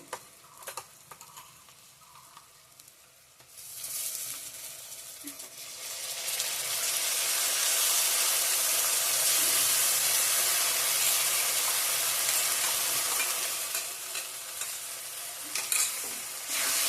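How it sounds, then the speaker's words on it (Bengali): Ginger-garlic paste and ground spice paste for a mushroom dish fry in a pan with quiet stirring at first, then a loud, sustained close sizzle swells in and holds, easing slightly near the end. "ভালো করে কষিয়ে নেব"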